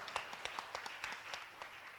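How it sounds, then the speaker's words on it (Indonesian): An audience at a village innovation outreach event in Bogor claps in scattered, uneven bursts, faint and somewhat distant, with no voices over it. "yuk tepuk tangan dulu udah buat Ibu Bupati Bogor"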